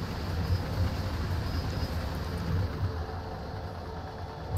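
Electric train running in the Train Sim World 4 game, a BR 185 locomotive on the Ruhr-Sieg Nord route, giving a steady low rumble and rolling hum with no break, with no voice over it.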